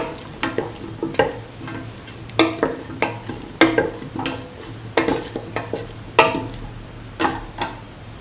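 A spoon stirring cauliflower, potato and coconut milk rice in a pan, steady scraping strokes roughly every second over a soft frying sizzle, close and fairly loud with no voices.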